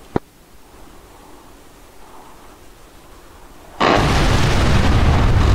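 Gunfire and explosions in DCS World modern air combat: a single sharp crack near the start over a low steady rumble, then a sudden loud, sustained roar of noise bursts that fills the rest of the clip.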